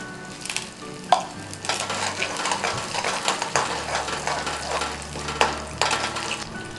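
Mustard seeds, cumin and asafoetida crackle and sizzle in hot oil as they are stirred with a utensil, with occasional scrapes and clinks against the pan, steady and close with no one talking.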